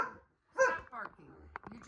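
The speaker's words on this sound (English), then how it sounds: "You're just barking for no reason at all." A pet dog gives a couple of short barks and yips close by indoors, mixed with a person talking.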